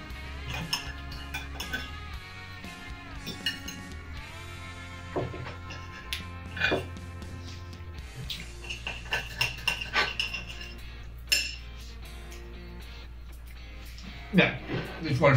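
Knife and fork scraping and clinking on a plate while eating bread with roast beef, with scattered light clinks and taps growing busier toward the end, under ongoing conversation.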